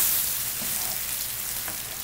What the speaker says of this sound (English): we're going to deglaze with a little white wine